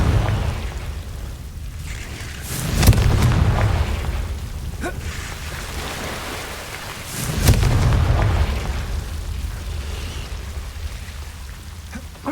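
Two heavy spell blasts from Confringo in Hogwarts Legacy, each a sharp crack followed by a rumbling low burst, a few seconds apart over a steady, rain-like ambient wash.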